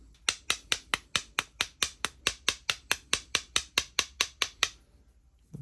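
A hammer strikes a worn vacuum motor brush about twenty times in an even, brisk rhythm, each blow a sharp close crack, before the tapping stops and it falls quiet.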